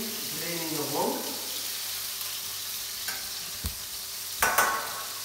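Salmon fillet frying in a pan on a home stove, a soft steady sizzle running underneath with a few light clinks and taps of utensils, while a voice talks over it early on.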